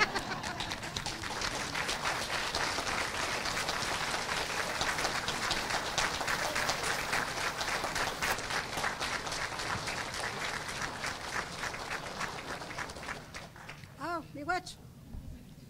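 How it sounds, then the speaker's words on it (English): Graduation audience at a ceremony clapping steadily, a broad, dense wash of applause that continues throughout and thins slightly near the end, where a few voices and cheers break through. "I'm going to ask every one of you today to stand up and clap your hands for them."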